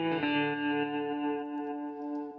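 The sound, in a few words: fully wet fast delay on guitar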